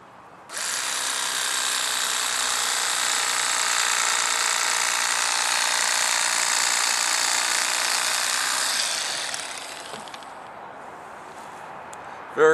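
An electric fillet knife buzzes steadily while slicing a channel catfish, a loud continuous motor whine running for about nine seconds before tapering off, with no talking over it.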